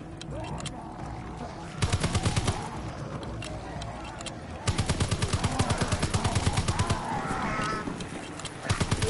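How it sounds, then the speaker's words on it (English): Rapid bursts of video game gunfire from the Volt weapon, several loud rattling volleys separated by short pauses, with a voice talking faintly in between. "what I'm shooting right now sounds like an LMG, but no, it's the Volt"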